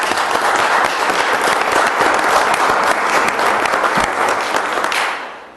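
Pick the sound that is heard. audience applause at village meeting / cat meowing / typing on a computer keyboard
audience applause at village meeting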